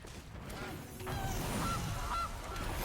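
Goose honks from the Gilded Goose card in a digital card game, a few short nasal calls standing out over a steady game background, fairly close and moderately loud.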